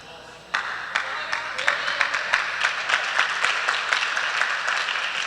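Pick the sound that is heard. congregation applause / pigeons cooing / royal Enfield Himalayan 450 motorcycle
congregation applause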